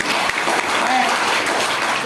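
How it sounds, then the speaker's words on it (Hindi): Loud, dense applause from an audience at a university Hindi department event for Tulsidas Jayanti, a continuous wash of many hands clapping close by, with faint crowd murmur underneath. "ताली बजाइए।"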